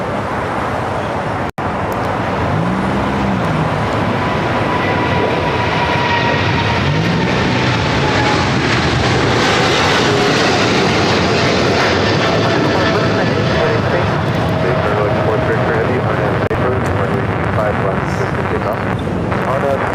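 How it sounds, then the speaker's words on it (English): A Korean Air Cargo plane passes at LAX, its broad engine roar holding steady and loud through the whole stretch, with a faint tonal whine and a doppler-like dip near the start, while people talk over it. "That was Korean Air Cargo Flight 8208."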